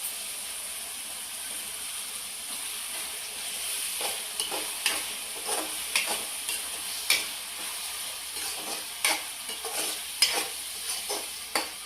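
Tomato paste from two red tomatoes fries and is stirred in a pan for gonggura chicken, a steady soft sizzle under repeated scraping clicks of a spoon, close by with no talking.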